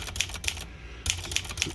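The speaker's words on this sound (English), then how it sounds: "So regular typing and the comma and the period still works." Vintage typewriter under repair typing, with crisp keystrikes arriving in two quick clusters of three separated by a short pause, close and clear.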